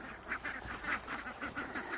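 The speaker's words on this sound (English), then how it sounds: "the ducks are eating a lovely treat of watermelon" Ducks quack and honk in a busy, overlapping chorus while eating watermelon outdoors, fairly faint against steady background noise.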